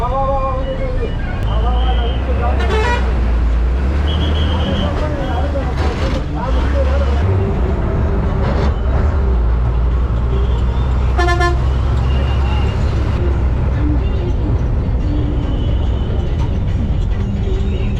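A 66P city bus rolls through traffic between Poonamallee and Kilambakkam, its engine rumbling steadily up close while several horns toot near and far, with someone talking over the noise throughout.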